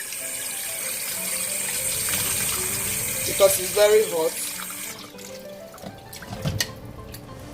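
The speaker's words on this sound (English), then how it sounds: "Cold water through it" Cold tap water runs steadily into a pot over hot sliced meat for Nigerian edikaikong vegetable soup, a continuous gush with a few splashy bursts midway, while a person talks over it.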